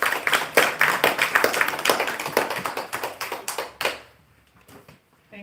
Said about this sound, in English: if you can give her a round of applause.